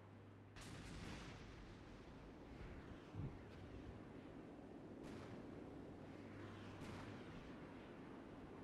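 Door-gunner and rocket fire from Huey helicopters in the Armored Brigade war game, heard as repeated distant booming bursts over a steady low rumble, faint and without any talking.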